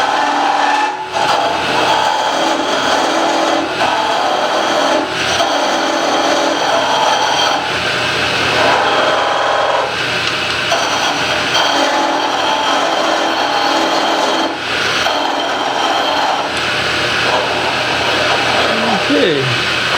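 A 3/8 drill boring into a workpiece on a metal lathe, a continuous whirring machining drone with faint rubbing and cutting noise that holds steady for the whole stretch, with brief pauses and someone speaking over it.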